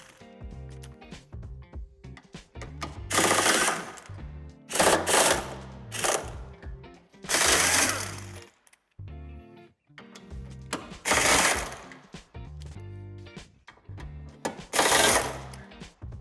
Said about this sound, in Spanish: tendremos que desmontar 3 tornillos de los 4 que sujetan la barra